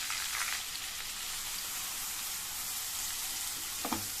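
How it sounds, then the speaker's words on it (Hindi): Finely chopped onion fries in hot oil in a kadai with a steady, hissing sizzle, fairly close, with a couple of brief stirring scrapes near the end. "तो अच्छे से इस ऑयल में हम ऑनियंस को फ्राई अप कर लेंगे लाइट गोल्डन होने तक"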